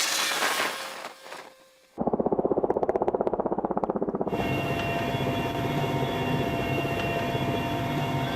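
A helicopter on a heli-skiing trip in Russia; after a brief muffled rush, the rotor's rapid chopping pulse comes in loud and close, then settles into a steady, dense turbine roar.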